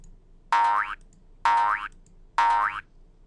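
A cartoonish jump sound effect played back from a jump.ogg file by a simple program, repeating three times at about one-second intervals, each a short bright boing with a quick rising pitch sweep, loud and clear over near silence.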